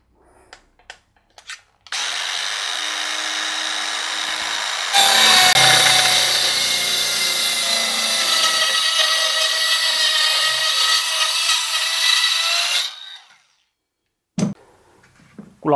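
A power saw cuts through a wooden board at an angle in one long continuous pass, its whine rising in pitch midway, then stopping abruptly; brief clicks and knocks before and after.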